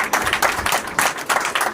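A church congregation applauds together in steady, rhythmic clapping, with bursts of claps rising and falling at a moderate loudness and no voices over them.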